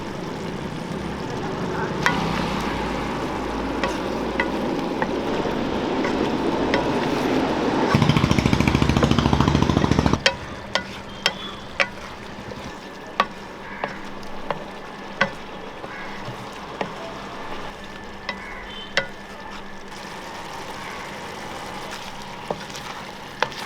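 Eggs frying and being stirred into an egg curry give a steady close sizzle, followed by a series of sharp scraping and tapping clicks as they are turned in the pan.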